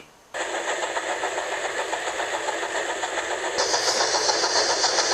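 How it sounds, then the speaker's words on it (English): A toy steam locomotive engine starts up abruptly and keeps up a steady, close mechanical whirring chug that brightens and grows slightly louder near the end, with no voices. "She steamed out of Orford after James."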